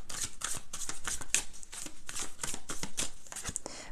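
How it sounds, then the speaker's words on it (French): Tarot cards shuffled and handled from a deck, a steady close, crisp riffling and sliding of card stock running continuously with no speech. "Je vais vous prendre une carte du tarot."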